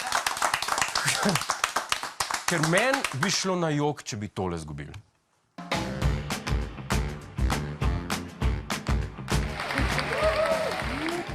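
Studio audience applause on a Slovenian satirical TV show, rising after a stretch of someone talking and a short silence, then continuing as loud, dense clapping mixed with other studio sound.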